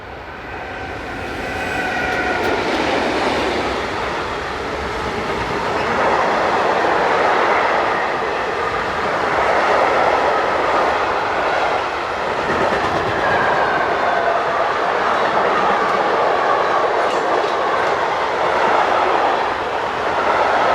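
Locomotive 152160 passes a road crossing on the Hannover to Magdeburg main line, hauling dead 233572 in tow. A loud, steady rumble with rhythmic wheel clatter runs close by for the whole stretch, with no voices.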